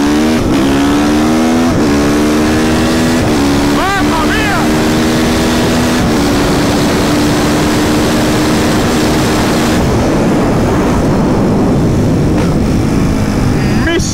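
A loud, close Mercedes A45 S engine revs hard on launch control and climbs steeply in pitch, pulling through gears in one sustained, aggressive acceleration.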